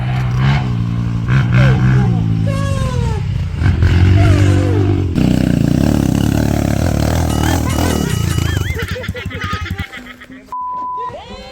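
A dirt bike engine revs hard on a trail, loud buzzing pitch sweeping up and down in repeated throttle blips, close by, with people shouting and talking over it.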